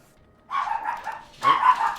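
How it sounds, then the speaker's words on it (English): A dog barks in two bursts, the first lasting about three-quarters of a second and the second following after a short pause, heard fairly close and clear over a quiet background during a Total War Attila strategy game session. "Oh, sorry about the barking, everybody."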